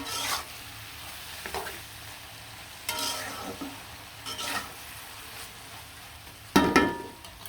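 Boiled taro stolons stirred with spices in a pan, a soft sizzle with intermittent scraping strokes and a sharper clatter near the end, close by.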